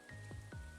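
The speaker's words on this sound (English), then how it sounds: "You're gonna hear the rain in Stardew." Rain falling in the Stardew Valley video game, heard as a brief burst of soft droplet and dripping sounds, steady and fairly quiet, with no talking.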